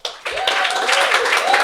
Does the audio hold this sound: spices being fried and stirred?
no